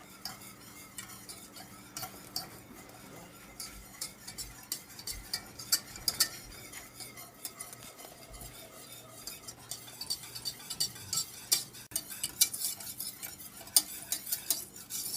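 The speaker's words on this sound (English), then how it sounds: "So I've been stirring this constantly." A spoon stirring a milk mixture in a pot on the stove for mini paczkis, faint and continuous, with light scraping and occasional clinks against the pot.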